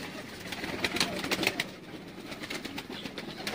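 Sialkoti pigeons coo close by in soft, repeated throaty calls over a background of faint rumble, with some quiet chatter nearby.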